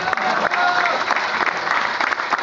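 An audience at a Gombak UMNO gathering with Zahid Hamidi claps in sustained, dense applause, loud and steady throughout with no pauses, and a faint murmur of voices mixed in.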